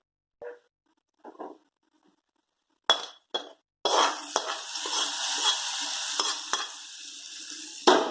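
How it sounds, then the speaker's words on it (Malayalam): Chilli powder tempering with fried small onions is poured into a white bean and papaya curry, giving a few soft clinks and stirs before a loud, sustained sizzle that continues close by with occasional clanks. "ഇനി ഇത് കറിയിലേക്ക് ഒഴിക്കാം."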